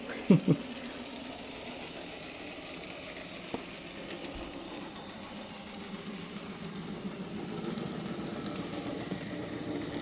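A small motor whirs steadily with a faint rattling clatter as a fairly heavy Farish BR Class 55 model locomotive circles a track, a couple of soft knocks near the start.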